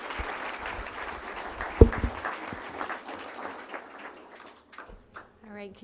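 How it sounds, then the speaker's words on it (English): An audience at a school board meeting claps in a brief round of applause, a dense patter of hands that fades out after about four seconds, followed by a few faint sounds in the room. "Let's give her a round of applause anyway."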